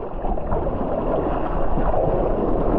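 High sea waves surging around a small fishing boat at sea, a continuous rushing, gurgling wash of water with wind buffeting the microphone, steady and close, no voices.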